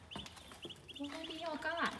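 Chickens cluck and chirp close by in a short burst of several calls, with a voice speaking faintly underneath.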